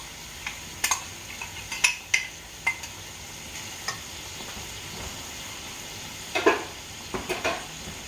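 Coney sauce with barbecue sauce stirred in a pot over medium heat, a spoon scraping and knocking in irregular bursts under a faint sizzle, close and alone.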